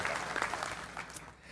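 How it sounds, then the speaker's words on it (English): Brief round of applause from a breakfast gathering audience, moderately close and steady with a few louder claps standing out, tapering off at the end. "please, a round of applause for all these fine folks with us today"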